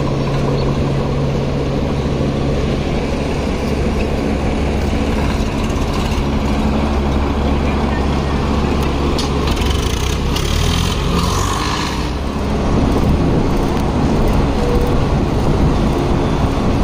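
Tractors, including a 475 DI, idle and rumble in a sugar mill yard, a steady loud low engine drone with mechanical clatter layered in, continuous and close for the whole stretch without talk.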